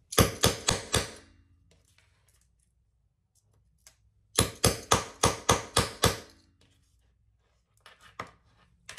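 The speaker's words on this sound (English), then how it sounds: "And we're going to hammer it 2 or 3 times." Two bursts of sharp metallic hammer strikes on a rivet setting tool, about five blows in each quick run, close and loud with quiet gaps between.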